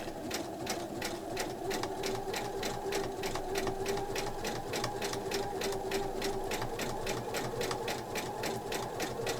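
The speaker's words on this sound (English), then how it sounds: "So we're going to stitch up here." A sewing machine stitches fabric for a small coin purse, its needle clattering in a fast, even rhythm over a steady motor hum, close and continuous throughout.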